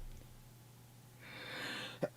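A single faint sneeze in a quiet indoor room: a breathy hiss swelling for about half a second, then a sharp little burst at the end.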